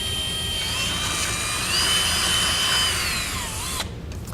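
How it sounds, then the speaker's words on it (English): A power drill bores a smaller pilot hole into the frame of a 2004 Lincoln Town Car for a Curt trailer hitch, whining steadily and loudly up close before the pitch drops and stops near the end. "We're going to start off with our smaller bit to create our pilot hole"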